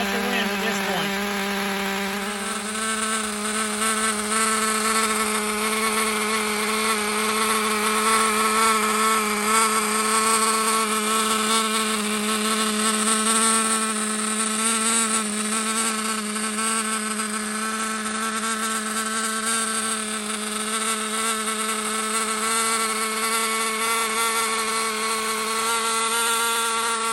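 Team Associated RC10GT re-release nitro RC car with a Team Associated 15 engine runs continuously at a high, buzzing, whiny pitch, loud and close, holding a steady drone throughout.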